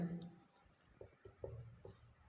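Marker or chalk writing on a classroom board, a series of short scratchy strokes in an uneven rhythm, faint and close, mixed with quiet speech from a teacher.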